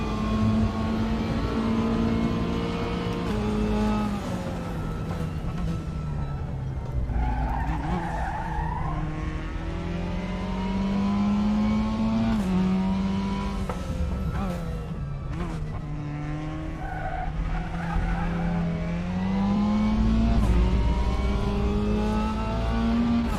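Mazda MX-5 race car in a racing video game, engine note rising and falling through gear changes with tire squeal and skidding under braking, loud and continuous throughout.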